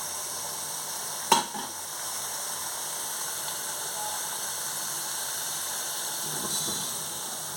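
Shrimp and eggplant frying together in a pan, a steady soft sizzle and hiss with a sharp clink of a utensil early on and faint stirring later.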